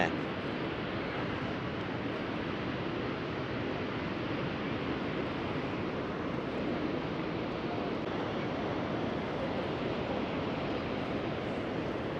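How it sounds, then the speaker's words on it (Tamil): Steady broadband rush of water splashing and churning, continuous and fairly loud throughout with no pauses. "தண்ணி இஞ்சியே தெரிக்குது"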